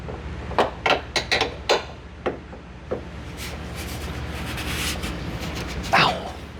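Bolts being undone on a van's front end, several sharp metallic knocks and clanks in a quick cluster, then scattered clicks and a final louder clank, close by with a faint voice in the background.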